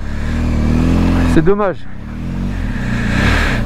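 A BMW GS 1250 motorcycle engine drones steadily, then revs up and drops back in a quick swell. Someone speaks briefly over it.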